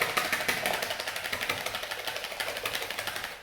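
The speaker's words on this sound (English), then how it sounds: "When you do this I want you to whisk it really well so that the mixture gets light and" Caster sugar being whisked briskly into a chocolate fondant pudding mixture in a bowl, a steady rapid rhythm of scraping, ticking strokes, close and fairly loud, with no talking.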